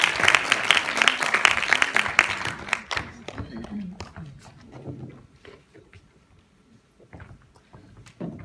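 Applause at a TEDx talk begins with a burst of clapping that thins out to scattered, distinct claps over several seconds, with faint voices in the room as it fades.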